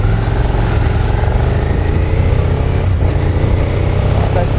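Suzuki SV650X café racer motorcycle with a HealTech quickshifter accelerating, its engine droning loud and close under faint talk with a brief dip near three seconds as a gear changes.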